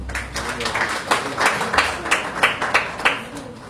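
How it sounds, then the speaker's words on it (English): An audience at a Uganda Law Society keynote address claps in a steady, moderately loud burst of applause lasting several seconds, with no talk over it. "I didn't expect you to clap."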